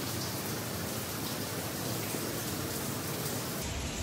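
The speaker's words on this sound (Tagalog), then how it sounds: "Naririnig yung daloy ng tubig." A dense, steady rush of water fills the Lamprechtsofen cave, an even hiss like heavy flow or dripping rain, continuous without pause.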